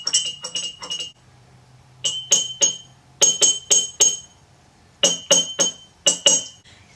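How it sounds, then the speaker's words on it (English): A spoon clinks rapidly against a glass while a pumpkin spice cocktail made with Ole Smoky Pumpkin Spice Cream and Jameson is stirred, coming in bright, close bursts of several quick taps separated by short pauses. "And then we're going to stir instead of shake."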